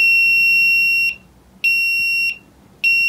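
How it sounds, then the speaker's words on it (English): A boat's bilge pump alarm sounds in long, steady, piercing high-pitched electronic tones, three in a row with short silent gaps, close and loud. "that's the alarm that lets us know that the bilge pump is working"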